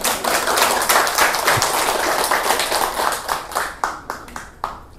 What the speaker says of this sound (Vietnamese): Cho một tay, cho một tràng pháo tay.